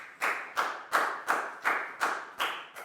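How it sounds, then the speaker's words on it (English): Hands clap in a slow, even beat for a student in a Year 4 maths class, seven distinct, close claps spaced evenly with short quiet gaps between them. "a big round of applause for Lakau"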